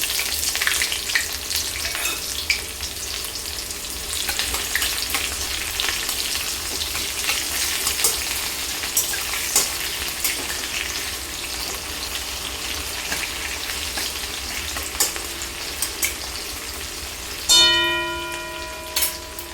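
Panch phoron and chopped onion fry in hot oil for a drumstick and poppy seed dish, a long, even close sizzle with stirring scrapes, ending in a brief ringing metallic tone.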